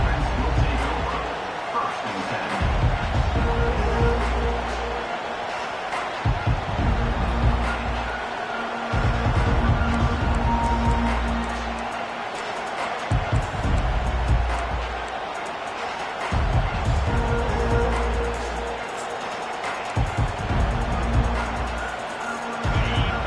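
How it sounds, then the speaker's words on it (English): Stadium crowd roaring in the College Football 25 video game during a Miami versus Ohio State matchup, a loud continuous wash of cheering that swells and dips, with a commentator's voice rising over it at intervals. "They challenge this crowd to bring the energy, and I'd say they're doing that."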